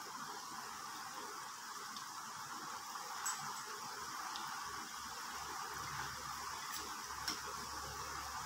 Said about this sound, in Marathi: त्याच्यामध्ये जी सिलेंडर आकाराचे आपण शेप तयार करून ठेवले होते ते टाकायचे आहे आणि छान तळून घ्यायचे आहे